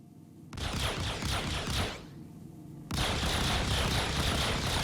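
Distortion guns on a Mantis ship fire in Star Citizen in dense rapid bursts, a sustained crackling barrage with a brief pause before a louder continuous stretch, close and steady.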